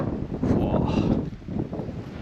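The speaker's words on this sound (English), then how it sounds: "Hey, that wind." Wind gusts across open water off Cape York, buffeting the microphone in a close, rushing roar that swells and eases over a couple of seconds.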